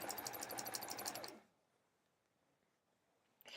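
A sewing machine quilting an hourglass block with metallic thread runs in a short burst of rapid, even stitching, then stops, leaving near silence before a faint click at the end.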